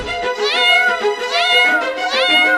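A cat meows loudly and close by, three drawn-out, rising-and-falling cries in a steady sequence with no other sounds.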